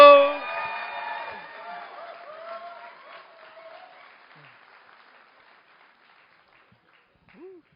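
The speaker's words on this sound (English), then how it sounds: "Can I get a round of applause for Mr." A crowd applauding a newly married couple at a speech: loud clapping and some cheering at the start that fade steadily to quiet over several seconds, mixed with voices.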